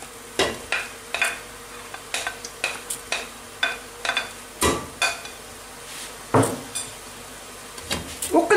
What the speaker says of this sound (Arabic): وقلي هاد المواد كامل مع بعضهم حتى يتقلاو مليح